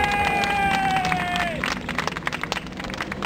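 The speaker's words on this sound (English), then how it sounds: "let's give a rousing cheer and some thunderous applause to world-class storyteller and my wife, Christy Horn" A live audience bursts into cheering and applause welcoming a storyteller to the stage; a thin whistle-like tone glides down early on before the dense, crackling clapping and crowd noise carry on steadily.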